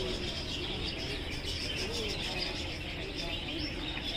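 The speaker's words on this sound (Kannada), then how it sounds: "ಆ ಬರ್ಡ್ ಸೌಂಡೆಲ್ಲ ಎಷ್ಟು ಚೆನ್ನಾಗಿ ಕೇಳಿಸ್ತಾ ಇದ್ದಾರೆ." Birds chirp outdoors near a highway mall, faint repeated tweets over a steady wash of background noise.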